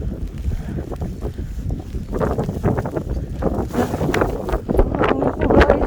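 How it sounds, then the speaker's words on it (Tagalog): Gusting wind during a snow storm in Madrid, a loud rushing roar buffeting the microphone outdoors that swells and surges in waves throughout. "Hangin po guys."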